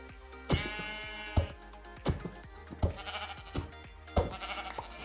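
Sheep bleat repeatedly in a French survival video game, several distinct, fairly loud bleats at irregular intervals with game music and clicking effects underneath, no talking.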